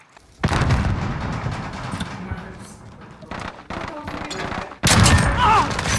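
Loud bursts of shotgun fire in a video game, with a heavy blast near the start and another sharp one near the end, set against continuous game noise and talking voices.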